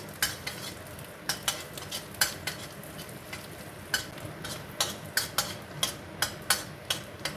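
Garlic, shallots and chili fry over low heat in a pan, with a steady soft sizzle under repeated sharp scraping and clinking as a utensil stirs them, the strokes coming in an irregular rhythm close by.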